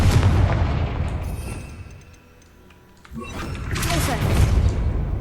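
A Confringo fire-blast spell erupts in the Hogwarts Legacy video game: a loud, close, booming burst fades into a quieter lull, then a second crackling blast swells back up to full strength.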